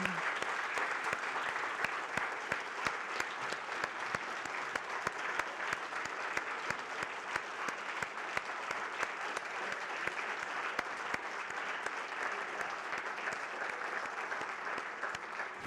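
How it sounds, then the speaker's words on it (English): Steady, dense audience applause at an Illinois state legislative candidate forum, sustained clapping from a crowd throughout with no talk over it. "Could we have a huge round of applause?"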